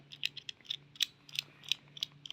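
A nut on a solar panel rail clamp is undone with a ratcheting tool, giving a quick, irregular run of light, close metallic clicks and ticks with no talking.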